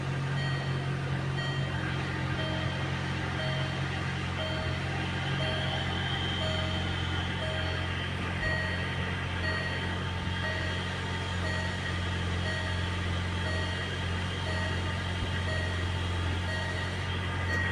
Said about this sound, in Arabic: الحمد لله السيارة اشتغلت.